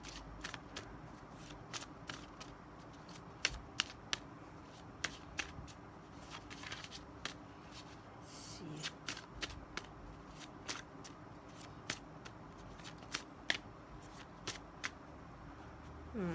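Oracle cards are shuffled by hand in a quiet room, a soft continuous riffle broken by sharp irregular clicks and snaps as cards slip and flick against the deck.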